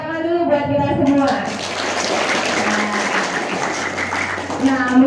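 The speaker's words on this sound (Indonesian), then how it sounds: "tepuk tangan dulu buat kita semua." Lively applause from a morning audience at an Indonesian community outreach session fills the middle of the clip, a dense burst of many hands clapping framed by a voice talking before and after.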